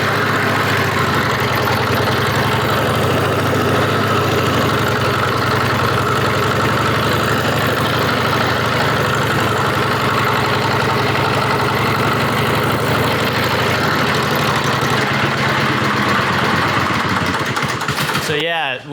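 A 113-year-old motorcycle's engine runs steadily and loud throughout, a continuous rough mechanical drone close by, cutting off abruptly near the end.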